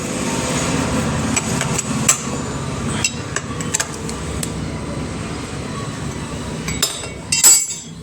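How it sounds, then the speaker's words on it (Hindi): A number 8 spanner clinks and taps against metal while tightening the starter motor bolts on a Mahindra Commander Jeep, giving irregular close metallic knocks with a louder clank near the end. "उसकी मदद से 8 नंबर के टीपाने से उसको दोनों को टाइट कर लूँगा"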